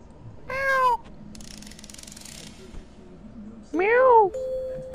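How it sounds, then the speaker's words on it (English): Two synthesized cat meows from the Moonwalking Kitty video game, each a loud, rising-then-falling call about half a second long, separated by quieter game background noise and a brief electronic tone. "Meow."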